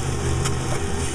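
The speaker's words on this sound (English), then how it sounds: "That's the sound of the gigantic rollers directly beneath me." Giant rollers crush malted barley inside the Heineken brewery, giving a loud, steady low rumble and drone with one brief gritty burst partway through.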